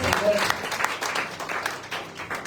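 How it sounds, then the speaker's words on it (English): A congregation at a Sunday evening retreat in Margao, Goa claps in uneven bursts, moderately loud, with voices mixed in under the clapping. "If you're clapping, clap wholeheartedly."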